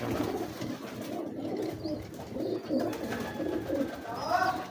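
Teddy breeder pigeons in a Lahore loft give repeated soft, throaty coos close by, with a few higher chirps near the end and faint human sounds in the background.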